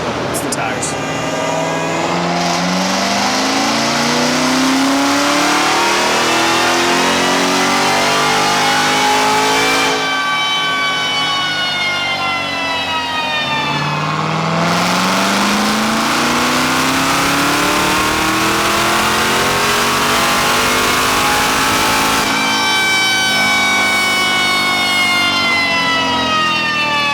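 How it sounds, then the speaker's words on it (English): A Corvette C7 Z06 revs hard on a chassis dyno, its engine climbing through long, loud rising sweeps in repeated pulls while the tires give off a piercing high whine over the roar. "so it will be kind of loud and whiny on the dyno"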